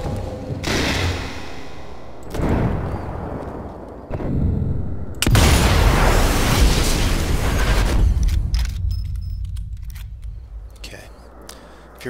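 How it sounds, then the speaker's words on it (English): Grenade blasts in the World War II shooter Sniper Elite 4: several heavy booming explosions in succession, the loudest a long rumbling burst near the middle, each followed by a decaying roar, with no voices. "he just threw a grenade"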